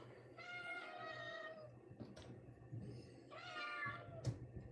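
Cats waiting to be fed hot potatoes meow in two drawn-out, tonal calls, close and fairly quiet, with soft background noise and a brief knock between them.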